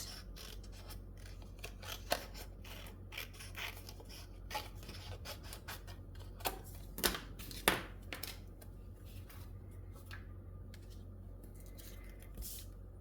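Scissors trim excess cardstock in a quiet craft setting, giving a string of soft, close snips and rustling paper, with several sharper cuts standing out.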